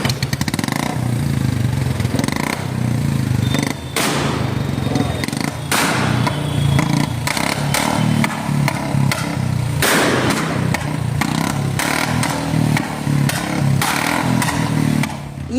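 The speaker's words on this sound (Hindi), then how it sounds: "इसके बाद बाइक ऐसी आवाज निकाल रही थी।" A new Royal Enfield Bullet motorcycle with a modified exhaust, on the streets of Varanasi: a loud, continuous thumping engine note broken by sharp, popping, cracking bursts as it revs.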